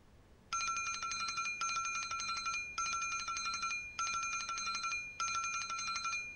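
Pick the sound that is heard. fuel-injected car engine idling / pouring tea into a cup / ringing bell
ringing bell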